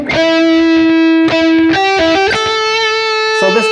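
Loud, saturated high-gain electric guitar through a Headrush Prime on a VH4 amp patch, playing sustained distorted notes and chords with a few quick picked phrases, close and dry.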